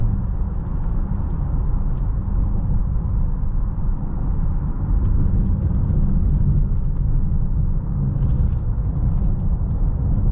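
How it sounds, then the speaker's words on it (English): A 2023 Mazda CX-9 three-row SUV cruises on a highway, heard from inside as a steady, loud low rumble of road and engine noise with faint wind hiss and no talking. "that's a quick little highway drive of the Mazda CX-9"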